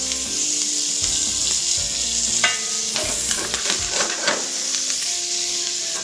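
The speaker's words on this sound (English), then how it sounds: "So the idea is to get nice caramelisation on these veggies" Leeks, onion, garlic and thyme sauté in canola oil for a lamb navarin, a steady close sizzle broken by several scraping stirs and clinks of a utensil against the pan.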